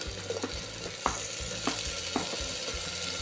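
Onion and tomato cook in a pan, a steady sizzle and frying hiss broken by repeated scraping strokes of a spoon stirring, close up and with no talk.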